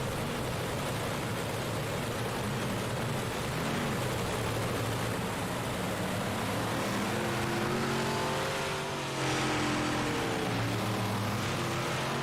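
Big block dirt modified race cars in an iRacing game roar steadily around a dirt speedway, a dense continuous engine drone with rising revs near the end.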